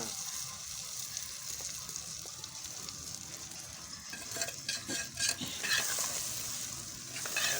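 Onions and eggs sizzle and fry in a kadai, with steady hissing and spatula scraping that grows busier and louder toward the end, close by and without talk.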